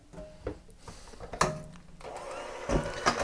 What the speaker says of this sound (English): I have the mixer on kind of like a medium type thing